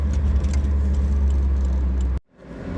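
A Toyota AE86 being driven, with a steady, close engine drone and light rattles from the cabin that cut off abruptly near the end.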